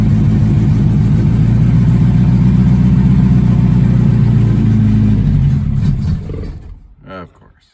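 A Classic Mini engine with Pertronix ignition runs loud and steady on choke, a dense low rumble that holds for several seconds and then dies away, followed by a short sputter before quiet.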